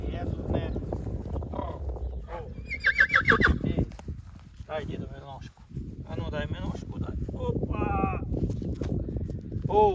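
A young foal for sale in Ukraine whinnies several times, its bright neighs rising over hooves clip-clopping close by, with people talking around it throughout.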